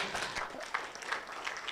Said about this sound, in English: Applause for this great team, tafadhali